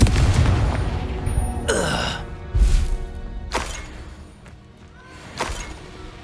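Confringo fire blast spell exploding in Hogwarts Legacy, a series of loud booming blasts with crackling bursts spread through the clip, following one another at irregular intervals with no talk.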